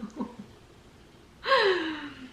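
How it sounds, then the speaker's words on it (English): A small pet gives a single loud, breathy snort, a sharp rush of air that trails off over about a second, after a brief stretch of soft sniffly breathing. "He has a little bit of like a snoring while awake issue."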